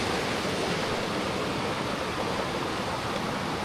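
Strong water current rushing steadily and loudly past on a rural property, a dense continuous roar with no pauses and no voices.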